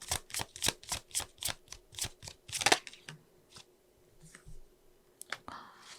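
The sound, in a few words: shuffling and drawing tarot cards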